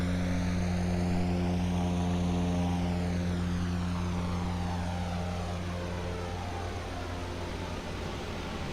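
A King Air C90 GTx twin turboprop in the Aerofly FS2 flight simulator taxis with a loud, steady propeller drone and layered engine hum, pitch sweeping slightly as the engines settle, with no talk over it.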